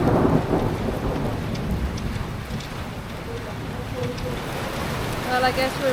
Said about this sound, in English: This is how heavy the storm is.